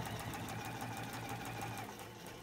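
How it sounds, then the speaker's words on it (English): A sewing machine runs steadily, stitching a dress seam from the bottom up toward the center-front pivot point, a continuous close, rhythmic whir and needle patter with no voices. "I'm stitching from bottom up to the pivot point of the center front."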